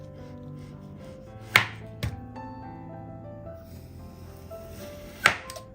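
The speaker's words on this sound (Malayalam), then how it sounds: "ഇനി ഇതൊന്ന് റൗണ്ടായിട്ട് നമുക്ക് കട്ട് ചെയ്യാം." A knife cuts a homemade coconut snack into rounds with three sharp, isolated chops against a board, spaced over several seconds, close and clear with a quiet background.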